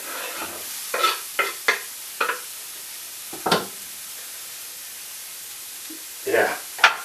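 Chopped onions frying in a pan on a hob set to 5, with a steady sizzle broken by several sharp stirring scrapes and clatters, and brief voice sounds in places.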